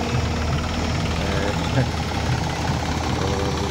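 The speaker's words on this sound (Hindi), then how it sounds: "और ट्रैक्टर वहाँ आ गया है" A tractor engine idles steadily in a farm field being leveled with soil, a continuous low rumbling drone that stays constant throughout with no clear breaks.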